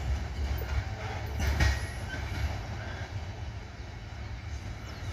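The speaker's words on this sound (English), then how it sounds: "the Advil switcher and the engineer waved at us" A switcher locomotive rolls past with a steady, close broadband rumble and rail noise, plus a few faint wheel clanks and squeals, without talk.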